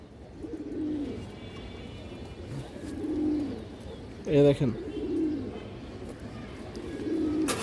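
Pigeons coo in low, rolling bursts that recur every couple of seconds, among a loft of varied breeds; someone talks over them, and a sharp flapping or rattling burst cuts in midway.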